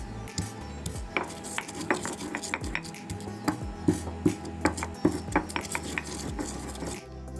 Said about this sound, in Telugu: ఈలోపు రోట్లో కొంచెం పంచదార, యాలకులు వేసి బాగా దంచి పక్కన పెట్టుకుందాం.